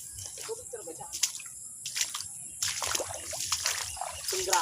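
Water splashing and sloshing on a farm, near a chicken pen: irregular bursts of splatter and dribbling, some louder than others, with quieter gaps between them and faint talk underneath.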